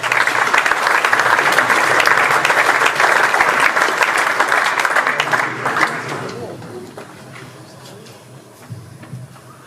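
An audience at a plenary session claps loudly and steadily for several seconds, then the applause thins out and fades, leaving scattered claps and room noise with a voice starting to speak.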